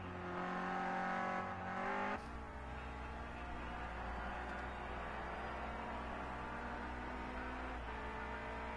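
Renault Clio Cup race car in qualifying, engine note loud and steady with clear harmonic lines, a sharp gear change near two seconds, then continuous high-revving drone passing close.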